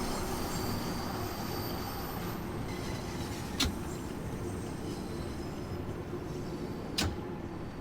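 A Bakerloo Line Underground train from Train Sim World 3 climbs a steep grade at steady speed, giving a loud continuous rumble of motors and wheels on rail, with two brief sharp squeals or clunks.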